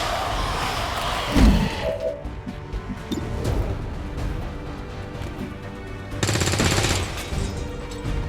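Bursts of gunfire and heavy thuds during combat in the video game XCOM 2: War of the Chosen, loud and dense over a rumbling game soundtrack.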